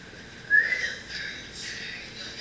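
A child whistles one short, faint, rising note indoors, with soft room noise continuing afterward.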